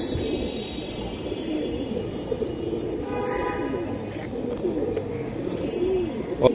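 Silver Giribaz pigeons of the Palla line coo softly at a pigeon sale, low murmuring calls under a busy ambient background with faint chirps.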